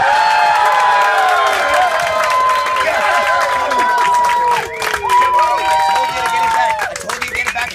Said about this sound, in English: Sometimes the audience erupts into spontaneous, uproarious applause.